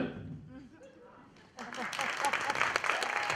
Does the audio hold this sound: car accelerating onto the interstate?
no